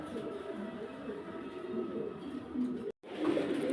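Pigeons coo steadily in low, soft rolling murmurs, close by, broken by a brief silent gap before continuing.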